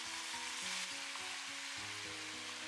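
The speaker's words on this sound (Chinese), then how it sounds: "继续给它翻炒一下，炒出酱香味" White radish stir-fried with soy sauce in a wok, a faint continuous sizzle with low clattering stirring pulses underneath, quiet and close with no voices.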